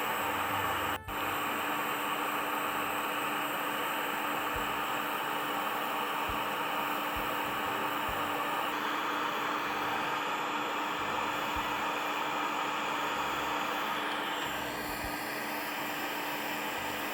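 A hot air rework station blows steadily onto an AM4 CPU socket during a socket replacement, making a continuous loud broadband hiss that stays even, without pause, throughout.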